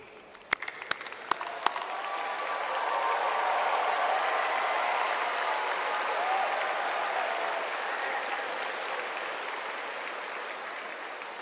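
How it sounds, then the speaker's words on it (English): Graduates at a University of Minnesota commencement cheer and applaud for their supporters, beginning with a few sharp claps and then swelling into sustained, broad applause and crowd noise that holds steady until the end. "Graduates, I invite you to stand as you're able and join me in cheering for your supporters"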